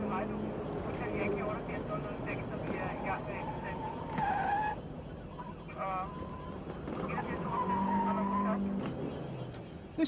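A stolen Danish pickup truck driven hard in a police pursuit, engine revving and tyres squealing in sharp bursts between sirens and road noise, with someone talking over it throughout.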